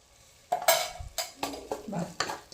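Ginger garlic paste with masala being stirred and fried in hot oil for a potato and eggplant gravy curry, with a soft sizzle under repeated scraping spoon strokes against the pan in an uneven rhythm, close and moderately loud.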